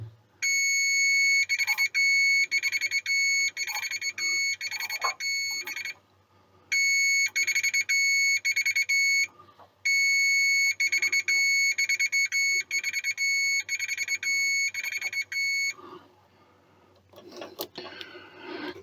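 A Samsung washing machine under repair for a 3E error beeps in a rapid, continuous electronic tone during a tacho sensor test, stopping briefly twice and then resuming, steady and close, with faint handling noise underneath.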